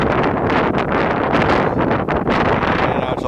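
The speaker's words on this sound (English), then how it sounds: "And now it's awful windy here." Strong wind buffets the microphone at the Sapp Bros truck stop in Omaha, Nebraska, a loud, continuous roaring rumble with gusty swells throughout.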